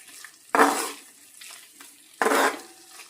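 Pork liver fry being stirred in a pan with pork masala, two strong scraping, sizzling stirs with quieter clinks and scrapes between them, close by and with no talk.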